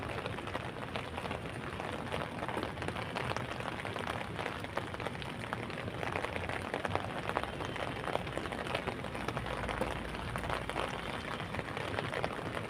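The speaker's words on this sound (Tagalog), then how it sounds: "may maingay yung bagsak ng ulan sa payong" Steady rain patters on an umbrella close by, a dense, even hiss with fine drops drumming continuously and no break.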